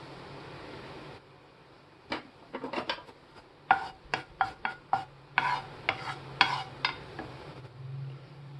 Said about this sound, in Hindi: तेल गरम होने के बाद सबसे पहले डालना है थोड़ा सा मेथी दाना